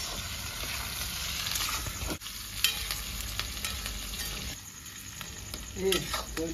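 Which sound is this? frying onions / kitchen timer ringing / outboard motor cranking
frying onions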